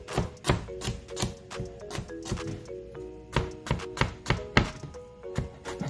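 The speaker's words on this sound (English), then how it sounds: "I'm gonna mince the garlic now" Knife mincing garlic on a cutting board, a quick irregular series of close, sharp chopping thuds, loud and alone with no talking.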